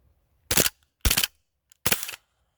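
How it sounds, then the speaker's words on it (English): Three single shots from a gas-powered airsoft pistol on an outdoor range, each a sharp, close pop with a short hissing tail, spaced about half a second to a second apart. "You can see the big cloud of gas as I'm firing it. There's a single shot only"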